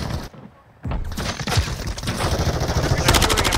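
Dense, continuous gunfire rattles through a Call of Duty Modern Warfare 3 multiplayer match after a brief dip, rapid automatic bursts layered with game noise and close, loud shots.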